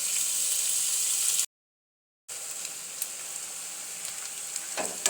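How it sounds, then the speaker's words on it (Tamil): Brinjal sizzles and fries steadily in a hot pan while being sautéed for a spicy brinjal and potato kara kuzhambu. The close, continuous hiss briefly cuts to silence, then resumes with occasional stirring scrapes. "வதக்கணும் ஃப்ரெண்ட்ஸ் நல்லா வதக்கணும்"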